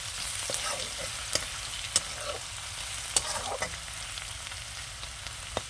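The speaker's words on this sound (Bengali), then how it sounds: "এবার একটু খন্তি দিয়ে রসুনটা একটু ভাজা করে নেবো" Garlic sizzles steadily in a hot pan while a spatula stirs and scrapes it, with sharp metallic clicks every second or so over the continuous frying hiss; no one talks.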